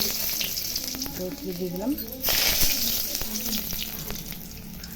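Dried red chillies, bay leaves, cloves, cinnamon and cardamom crackle and sizzle in hot ghee for a chicken do pyaza, with a steady close frying hiss and a brief spoken remark over it.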